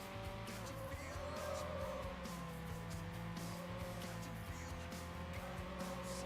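A car in Need for Speed Hot Pursuit 2 on the GameCube loses traction and skids, a steady engine drone mixed with tire squeal that holds at an even level the whole time.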